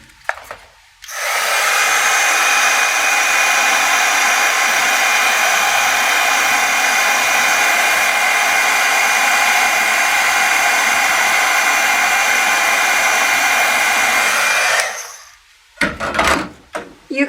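A heat dryer blows to dry wet pigment ink on a watercolor-stamped card. It makes a loud, steady, close whirring roar that runs for about fourteen seconds, then cuts off, followed by a few small handling clatters.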